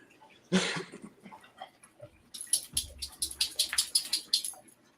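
A dog whimpers close by with a run of short, rhythmic, high-pitched whines after an earlier rustling burst.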